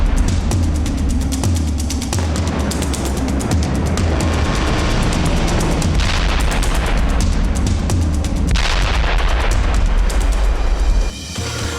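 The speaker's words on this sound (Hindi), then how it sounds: "रूस की तोपें गरज रही हैं" Continuous heavy booming and rumbling blasts of Russian artillery fire in Ukraine, loud and dense, with overlapping detonations throughout.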